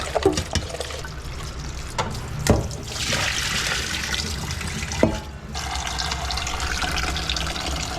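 Water runs from a tap to soak peppers in a kitchen sink, a continuous splashing fill set against a few sharp knocks, close and moderately loud with no talking.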